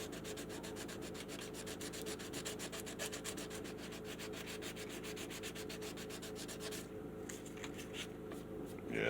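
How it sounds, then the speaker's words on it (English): Sandpaper rubs steadily across the wooden headstock of a guitar with a curved tri-tail design, a dense continuous scratchy rasp in fast back-and-forth strokes, close and alone, easing off near the end. "It'd take forever to sand this out."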